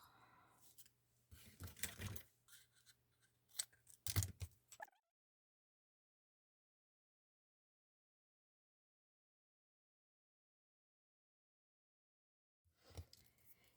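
Scissors snip through paper and double-sided tape offcuts while a spinner card is being made, a few close, quick cuts in the first five seconds, then silence before one more brief snip near the end.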